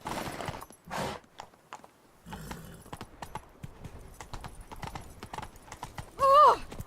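Horse hooves clip-clop in The Witcher 3 game, a steady run of close, distinct hoofbeats with brief bursts of noise, ending in a short whinny near the close.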